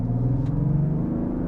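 A Mazda CX-60 Skyactiv D diesel SUV engine pulls hard under acceleration, giving a steady, slightly coarse low rumble that stays loud and even throughout.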